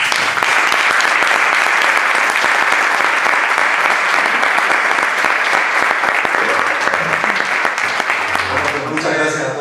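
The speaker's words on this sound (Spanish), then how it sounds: "Bueno, pues entonces le damos un aplauso." An audience claps after a lecture on Antarctica, a dense, steady round of applause from a sizeable crowd that carries on for several seconds and thins out at the very end.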